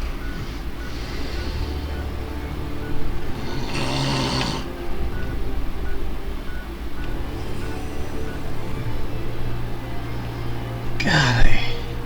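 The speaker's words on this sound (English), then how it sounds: "Again, I apologize for the snoring." Loud, rhythmic snoring drones on throughout during a Fallout 4 session, with a few brief breathy bursts layered over it.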